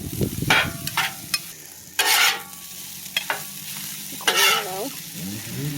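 Hibachi fried rice stir-frying in a pan, bursts of loud sizzling and scraping as the rice is tossed, between quieter stretches, with brief speech and a short voice sound near the end.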